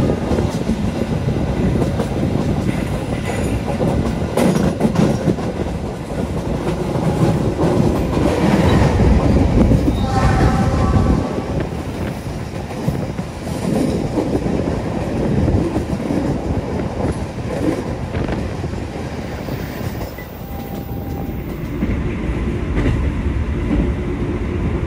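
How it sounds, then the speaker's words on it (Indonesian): Argo Anjasmoro executive train pulling into Pekalongan station, a loud continuous rumble of rolling wagons with rhythmic clickety-clack over rail joints and brief high wheel squeals, steady throughout without talk. "seperti kedatangan Argo Anjas Moro kali ini, tiba di stasiun Pekalongan juga awal 3 menit"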